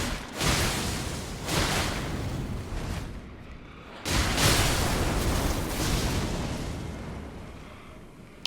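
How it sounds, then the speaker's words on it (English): Explosions from the Elden Ring video game come as two big, loud, broadband blasts, each rumbling and slowly decaying across several seconds. "The explosion."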